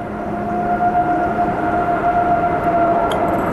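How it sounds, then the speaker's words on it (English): A train on tracks about a quarter mile off, a distant steady rumble with a sustained horn tone drifting in and out, heard alone at a moderate level. "I'm about a quarter mile from the train tracks, and here comes the train."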